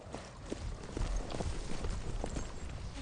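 Horse hooves clip-clop on ground in an irregular walking rhythm, moderately close, over a steady background hiss.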